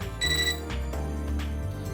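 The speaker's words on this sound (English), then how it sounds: "Computer beeps an odd noise." A computer in the Fate/Extra game gives an odd electronic beep: several bright, sustained tonal chimes over a low droning synth bed, with no talking.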